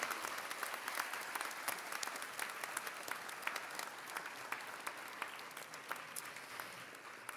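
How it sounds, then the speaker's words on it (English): An audience at an annual scholarship program applauds the evening's presenters, sustained, fairly distant clapping from a large crowd with a few sharper claps standing out. "If we can please give a round of applause for everyone who presented tonight"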